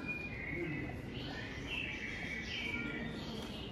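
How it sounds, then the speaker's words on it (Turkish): Recorded birdsong played over the speakers in the plant section of an IKEA store, with chirps and tweets running steadily at moderate level beneath a busy indoor hum and faint shopper noise. "Bitki bölümüne de kuş sesleri değil mi?"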